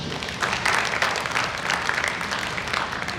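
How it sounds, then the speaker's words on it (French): An audience at a screening on gender-based violence in Guinea applauds an NGO, a sustained wash of many hands clapping at moderate distance, steady for about three seconds. "j'aimerais qu'on acclame encore cette ONG"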